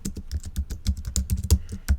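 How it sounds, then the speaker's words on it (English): Rapid typing on a computer keyboard, heard close and clear as a steady run of crisp key clicks at a brisk, uneven pace. "hit the enter key of my keyboard"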